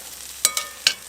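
An omelette cooks in a pan outdoors in the woods while being stirred, with three sharp scraping clicks of a utensil over a quiet sizzle.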